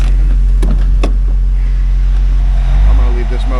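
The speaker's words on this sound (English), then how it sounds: "Transmission engages." A 2002 Mazda Miata engine idles with steady low rumble while its transmission engages, a couple of sharp clunks near the start, with wind noise on the microphone and a voice speaking near the end.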